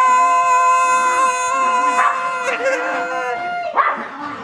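Several dogs in a lively household yip and howl in high, whining tones, loud and close, with overlapping vocal cries running continuously alongside a person's voice.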